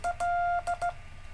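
Beeping tones in a short-long-short-short pattern, like Morse code letters being keyed, steady pitch, clear and close with quiet gaps.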